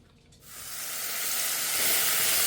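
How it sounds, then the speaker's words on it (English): Halved mushrooms land in a hot pot and break into a loud, steady sizzle that swells and holds close by, with no talk. "I am sauteing the mushrooms for the quinoa"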